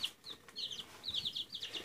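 Baby chicks kept with baby ducks give repeated high, thin peeping chirps in short bursts, close and fairly clear over a quiet background.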